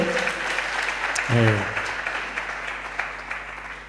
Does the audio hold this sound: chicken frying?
no